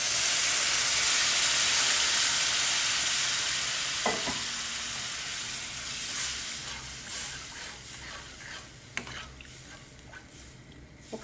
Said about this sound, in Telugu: ఒకసారి కలుపుకొని చింతపండు రసం పోసుకోవాలి.